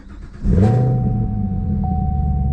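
A car engine starts and settles into a deep, steady idle rumble, loud and close, with a faint high whine running throughout.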